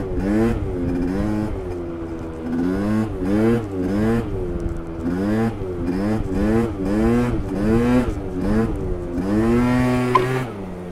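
A Yamaha Aerox 70cc scooter with a 21mm carburettor, revved repeatedly in short rising bursts, the two-stroke engine loud and close, its pitch climbing and falling again between blips.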